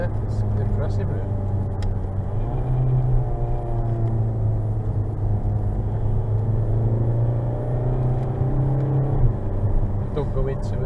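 A 105-horsepower car weighing 1.5 tonnes lapping the Nürburgring Nordschleife, its engine a sustained droning tone that rises and holds steady, heard from inside the cabin while people talk over it.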